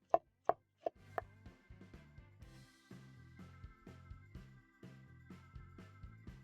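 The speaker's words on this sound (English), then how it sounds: "We're going to start off our recipe by shredding half a cabbage." Half a cabbage shredded with a knife on a board, a few sharp chops first and then a steady run of soft rhythmic cuts, close and fairly quiet with no talk.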